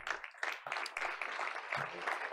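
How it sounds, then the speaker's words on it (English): A burst of applause from the audience at a Board of Education meeting, steady clapping filling the room for a couple of seconds at moderate volume. "I want to give them a round of applause for that."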